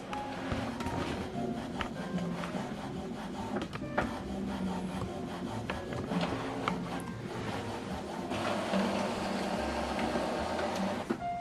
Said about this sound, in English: So right now it starts printing.